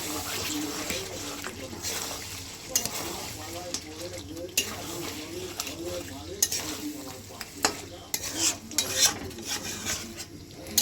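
Chicken being stirred with whisked sour yogurt in a kadai, dhaba-style: repeated scraping strokes of a spoon against the pan over a soft steady sizzle, with occasional metallic clinks, close and moderately loud.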